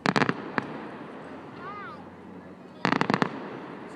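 Fireworks burst in two loud clusters of rapid pops at the start and near the end, with a quieter crowd murmur and a brief whistling tone in between.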